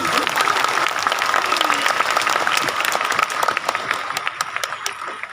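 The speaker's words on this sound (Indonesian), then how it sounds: "Tepuk tangan untuk Pondok Pesantren Al-Fiyah" Loud, dense applause from the audience at an Islamic boarding school religious gathering marking the school's tenth anniversary. Many hands clap close and continuously, thinning slightly toward the end.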